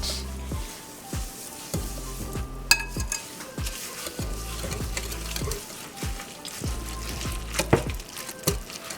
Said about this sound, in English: I just want to mix all of this together and combine it